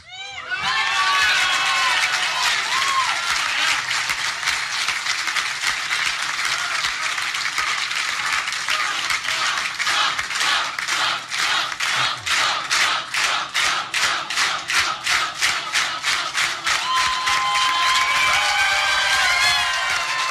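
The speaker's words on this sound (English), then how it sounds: "What a crowd, what a crowd." A huge rally crowd at a 2016 Donald Trump victory speech cheers and applauds loudly and continuously. Shouts rise over the clapping, which settles into rhythmic, pulsing chant-like beats.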